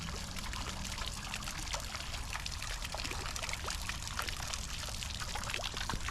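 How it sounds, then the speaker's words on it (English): Water trickles and splashes continuously in a cemetery fountain, a soft, steady patter of droplets heard at moderate distance with faint outdoor ambience and no pause. "I love these fountains, very peaceful."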